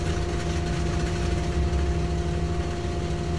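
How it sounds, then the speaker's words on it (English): A Douglas DC-2 engine in a flight simulator runs with a steady, loud, low droning rumble and constant vibration throughout, no voices. "Engine 2 starter engage."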